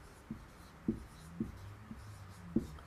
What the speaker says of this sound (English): I'll just write it down for you.